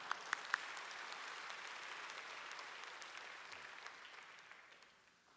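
A church congregation applauds during a Sunday sermon, a dense, even wash of clapping from a large crowd that holds steady and then fades out toward the end, heard at a distance.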